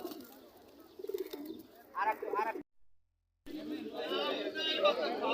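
Domestic pigeons coo softly at a busy pigeon market, the low calls mixed with nearby chatter and someone talking, broken by a brief dropout.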